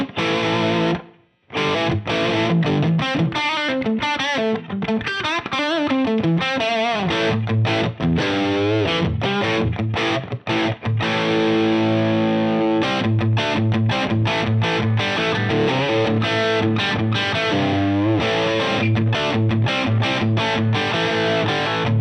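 An electric guitar runs through a Line 6 Helix Stadium XL with dynamic ambience reverb, producing a thick distorted tone with sustained chords and quick melodic runs that play continuously, broken by one brief pause near the start.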